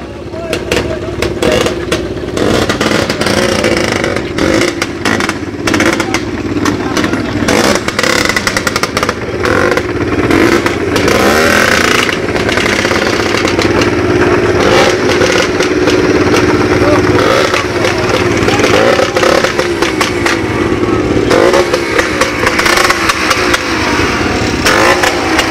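Motorcycles fitted with aftermarket exhausts rev and rumble at a Bulgarian biker gathering, engines sustained and loud throughout while a voice talks over a PA amid crowd noise.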